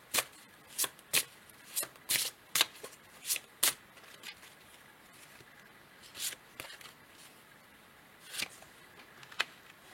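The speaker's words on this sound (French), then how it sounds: "Je vais tirer une autre carte" Tarot cards are shuffled and drawn for a reading, a quick run of crisp riffling snaps, then a few sparser flicks as cards are pulled, close and quiet.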